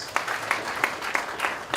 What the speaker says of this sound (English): Guys, clap for that.